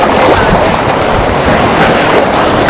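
Strong sea waves churn and wash continuously beside an island, a dense, loud roar with wind buffeting the microphone throughout and no clear breaks.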